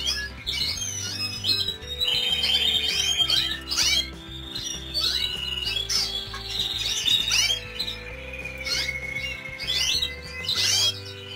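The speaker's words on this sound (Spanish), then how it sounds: "Mira qué pájaro me ha quedado aquí." A small bird chirps and squawks repeatedly at close range in quick, irregular bursts over a steady low hum, with no talking.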